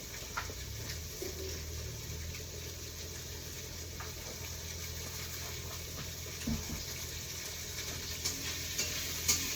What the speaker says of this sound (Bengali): ওইদিকে আমি মাছ ভাজা চড়াইছি